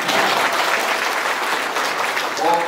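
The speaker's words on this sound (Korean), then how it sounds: "박수 한번" An audience at a lecture by a lawmaker gives loud, dense applause that stays steady throughout, close and full, with a voice faintly audible near the end.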